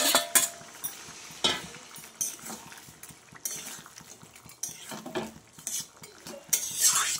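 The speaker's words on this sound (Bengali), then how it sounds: "এবার দেখো এই যে মাছ, আমি মাছগুলো দিয়ে দেবো।" Puti fish go into a pan of simmering potato and green tomato sour curry, with repeated close metal spoon clinks and scrapes against the pan over a soft, steady sizzle.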